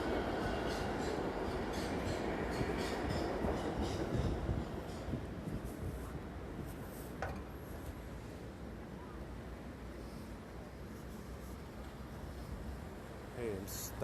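New York City subway train rumbling underneath the street near Wall Street, a heavy low continuous roar that swells then eases, with traffic noise and a voice heard over it.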